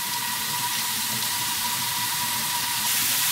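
Cevapcici frying in oil in a pan, a steady close hiss of sizzling fat with faint crackle, continuous and even throughout.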